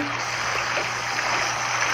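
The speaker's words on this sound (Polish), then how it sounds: "Włączę sobie bąbelki." A bathtub hydromassage bubble jet runs as a steady, even hiss of churning water and bubbles, close by and constant, with no voices.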